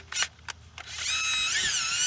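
A couple of short taps, then a cordless drill whines up and runs steadily, close and loud, its pitch shifting slightly as it drives spark plugs into a 2015 Chevrolet Equinox 2.4L engine head.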